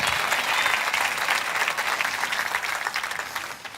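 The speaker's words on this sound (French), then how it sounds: "voulez-vous applaudir et dire oui?" A church congregation at a sermon breaks into sustained applause, a thick wash of clapping from a large crowd that holds steady and tapers slightly at the end.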